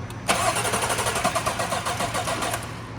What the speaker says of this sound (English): we will try to start the engine.